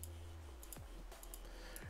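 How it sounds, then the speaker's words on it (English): Quiet, sparse computer mouse clicks while playing the game World of Warcraft, a few isolated sharp taps spaced irregularly over faint background game sound. "There I go again with the clicking"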